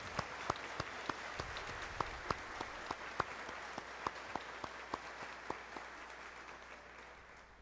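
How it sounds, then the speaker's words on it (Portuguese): A church congregation applauding a newly married couple during a Sunday Mass, steady moderate clapping from many hands filling the space at an even level throughout, with no voices over it. "a eles uma bonita salva de palmas"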